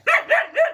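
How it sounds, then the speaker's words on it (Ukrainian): A dog gives three quick barks in a village yard, close and fairly loud, each short yelp following the last in an even rhythm, with no talking. "не гавкай."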